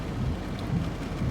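Heavy rain pours steadily during a storm, a dense close hiss with a low rumbling undertone and no voices.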